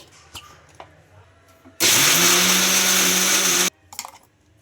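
A mixer grinder grinding chutney with a little water whirs loudly for about two seconds, starting and stopping abruptly, with quieter clatter before and after.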